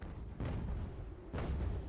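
Two deep booms of video game cannon fire in Ultimate General: American Revolution roll out about a second apart over a low, steady rumble, with no voices.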